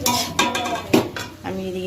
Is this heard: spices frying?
yes